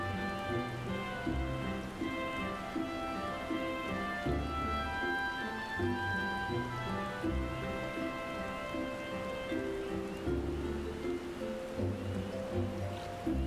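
Rain pours steadily in a Final Fantasy XIV city-state at night, a dense constant patter mixed under a soft background music bed, with no voices.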